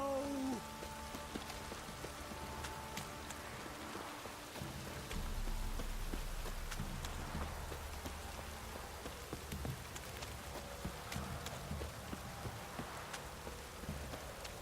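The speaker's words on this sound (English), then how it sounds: "This downpour's a bastard, it is. So unpleasant." Steady rain patters on a surface throughout in the video game The Witcher 3: Wild Hunt, a soft continuous wash with scattered droplet ticks and a low rumble underneath.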